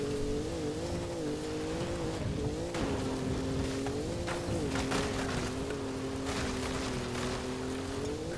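A level 2 Peugeot in a racing video game drives off through city streets. Its engine holds a continuous droning note that rises and dips as the car speeds up and eases off.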